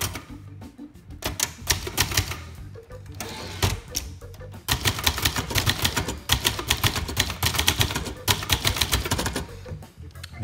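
Typing on a 1966 Montgomery Ward Signature 300, a small ultra-portable manual typewriter with a lightweight carriage, recorded close up as rapid bursts of crisp key strikes with brief pauses between runs.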